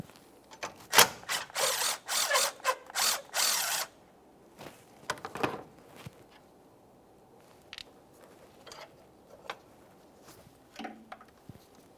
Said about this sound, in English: We'll hold on to the J-hook while we remove our mounting nut.